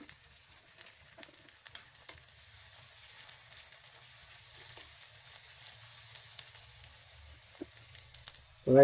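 Vegetables frying with browned onions in a pan for pasta, a soft, steady sizzle with scattered faint pops and crackles that continues throughout, ending in a brief louder clatter.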